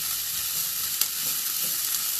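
Sliced peppers and onions sizzle steadily in a hot pan as they cook down, an even close hiss with a faint tap partway through and no one speaking.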